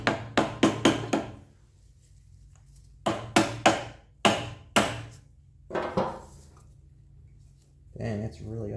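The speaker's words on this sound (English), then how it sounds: "I'm gonna tap that with a rubber mallet, break that seal" A rubber mallet taps a stuck carburetor on a Generac GP3250 generator, delivering clusters of sharp, close, dull knocks in quick groups of three or four with pauses between, followed by a short spoken remark.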